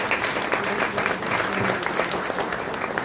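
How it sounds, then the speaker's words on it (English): An audience claps warmly and steadily to welcome the new Philippine ambassador to Canada, with dense, sustained applause filling the room throughout. "A round of applause, please."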